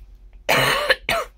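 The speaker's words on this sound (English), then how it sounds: "I keep coughing." A person coughs twice at close range, a long harsh cough followed by a shorter one, with a throat-clearing quality and silence around them.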